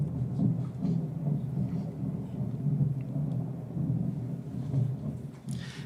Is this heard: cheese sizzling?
no